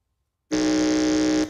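A single flat, buzzy electronic quiz buzzer sounds after a short silence, holding steady for about one second before cutting off, loud and alone, at a regional school quiz contest.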